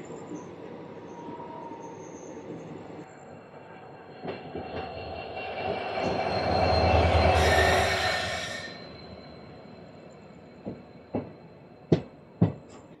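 The Bikaner Superfast Express runs along tracks near houses, its rumble swelling from a distance to a loud close roar with squealing wheels, then fading, followed by a few sharp clacks of wheels over rail joints.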